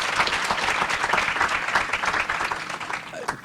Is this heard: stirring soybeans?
no